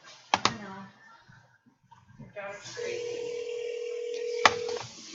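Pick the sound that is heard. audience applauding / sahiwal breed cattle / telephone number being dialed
telephone number being dialed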